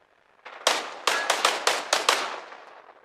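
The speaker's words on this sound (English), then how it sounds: "Oh, that's an explosion." A rapid string of about seven sharp, loud explosions bursts out in the combat game Arma Reforger, each crack close and punchy, fading into a short tail.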